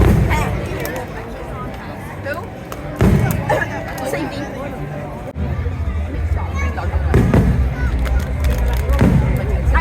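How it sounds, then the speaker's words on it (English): Dense crackling bursts and booming pops from fireworks, continuous and loud, with crowd chatter and hubbub underneath. "Dang, that's a lot of fireworks."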